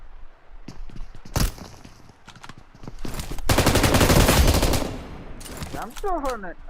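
Automatic gunfire in the mobile battle royale game BGMI, from weapons like a Vector, crackles in rapid bursts. A long, dense volley comes in the middle, then a few scattered shots at close range.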